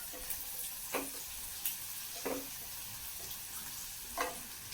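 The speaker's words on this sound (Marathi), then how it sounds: "हिंग पण आपल्याला चांगला परतून घ्यायचा आहे." Asafoetida and powdered spices sauté in a pan with a soft, continuous sizzle, broken by about four brief stirring scrapes at regular intervals, faint and close, with no talk.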